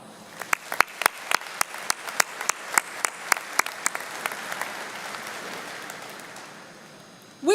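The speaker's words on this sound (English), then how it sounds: "Please join me in saluting our faculty with a round of applause." A commencement audience applauds the faculty, with loud, evenly spaced claps standing out over a steady crowd wash that gradually fades.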